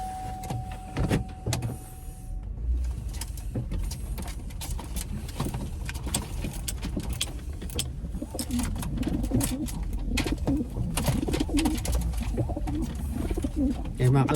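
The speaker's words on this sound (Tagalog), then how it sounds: "Yung mga kalapate natin nag-iingay na." Pigeons cooing near a loft, soft repeated coos mixed with other bird calls over a constant outdoor rumble, with a short steady tone at the start.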